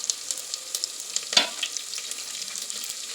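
Curry leaves and fresh coriander sizzle in hot oil in a pan while a spoon stirs them, with a continuous crackling hiss, light scraping, and one brief louder burst of spitting partway through.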